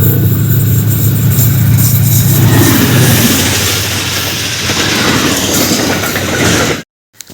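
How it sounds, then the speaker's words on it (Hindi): A train rolls past at a railway line crossing, its loud, steady rumble and rattling wagons filling the sound close by for nearly seven seconds before cutting off abruptly. "गाड़ी आ गई है, गाड़ी आ रही है ट्रेन"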